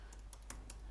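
Keys tapped on a computer keyboard while entering a terminal command, four quick, light clicks in a brief, close run against a faint hum.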